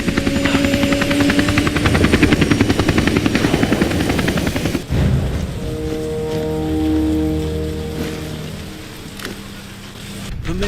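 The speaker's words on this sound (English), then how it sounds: "This is Chamin Su's chopper." Helicopter in the video game Army of Two, a loud steady rotor drone with rhythmic chopping throughout, shifting after a sharp break midway into a lower engine hum with tonal whine.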